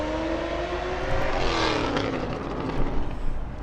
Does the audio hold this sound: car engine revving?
yes